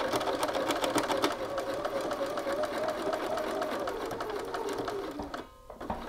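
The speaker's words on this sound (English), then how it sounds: "I've got my quarter inch foot, so we're just going to top stitch along the edge." A sewing machine with a quarter-inch foot topstitches along a shirt collar edge, a fast, steady mechanical whir and tapping that runs continuously up close, then briefly pauses and sputters near the end.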